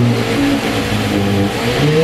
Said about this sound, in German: Dieser Motor wurde für den Rennsport gemacht.